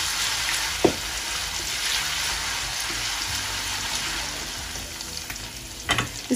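Steady crackling sizzle of garlic and ginger frying in hot oil for biryani, with a few louder clinks and scrapes of stirring.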